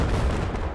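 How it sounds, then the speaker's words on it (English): Rocket artillery barrage in a 10-versus-10 Conquest battle on the Zavod map, a dense continuous rumble of booms and blasts, loud and close, filling the short moment without a break. "Watch out for the rocket artillery there."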